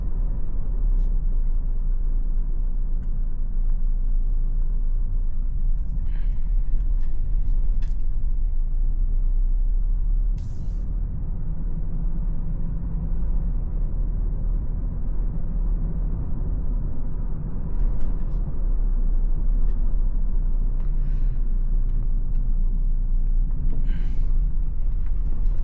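Low, steady diesel engine drone and rumble heard from inside a moving Toyota Innova Reborn 2.4 diesel with automatic transmission, with a constant hum and occasional faint clicks over it.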